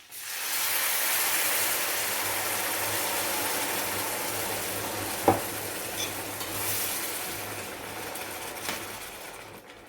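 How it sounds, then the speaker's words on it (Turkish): Water goes into a pan of frying vermicelli and bulgur for pilaf, setting off a loud, continuous hiss that slowly eases, with a single sharp knock midway and a few faint clinks. "artık suyumu ekliyorum"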